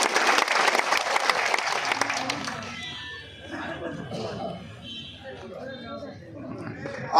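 Audience applause at a West Bengal handloom weavers' conference, a loud burst of clapping that fades into mixed crowd noise and murmuring after a few seconds.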